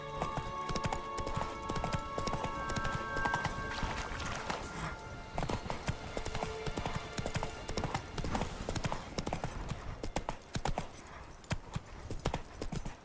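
Horse hooves trotting in The Witcher 3, a steady rapid clip-clop running throughout at moderate distance, with a faint voice briefly audible.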